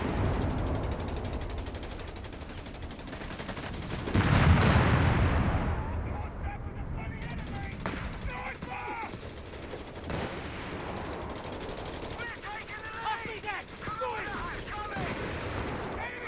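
Machine gun and artillery fire from the Italy invasion campaign in Company of Heroes 3, with a dense sustained barrage, a loud burst around the midpoint, then rattling volleys continuing under battlefield noise and voices.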